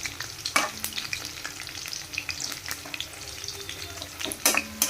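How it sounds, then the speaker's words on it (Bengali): Hilsa fish fries in a pan with a close, continuous sizzle broken by sharp spattering pops and occasional utensil scrapes, with no voices. "এই যে ভাজা হচ্ছে মোটামুটি ভাজা হয়ে গেছে"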